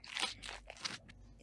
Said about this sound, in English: Cow is munching the grass.